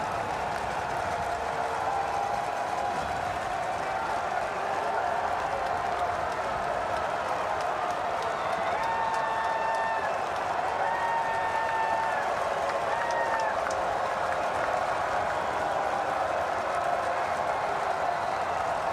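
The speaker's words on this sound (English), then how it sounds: "NIU crowd making their voices felt." A Northern Illinois football crowd roars in the stadium during a game against San Diego State, a steady dense wash of cheering and applause with a commentator talking over it.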